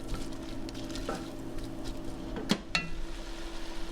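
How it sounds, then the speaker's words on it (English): Onion sizzles gently in melted butter in a pan, a soft, steady crackle with a faint hum and a couple of sharp utensil taps, close and quiet. "Our butter is melted. I'm going to add the onion. And I'm going to cook the onion just till translucent."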